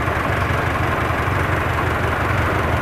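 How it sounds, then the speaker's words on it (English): A 1924 Kissel calliope circus truck engine idles nearby with a low, steady, slightly lumpy rumble that runs on without a break and with no voices. "Anyway, the engine runs really well."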